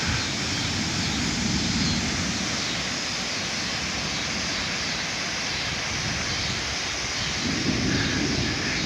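A strong gust of around 40 mph in a severe Oklahoma thunderstorm, heard as a steady broad roar of wind that holds evenly and swells slightly near the end.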